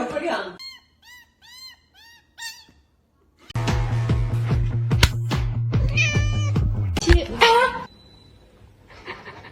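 A cat meows several times in a row of high, curling cries, then a louder, harsher stretch of sound with talking over it before a few fainter meows close it out.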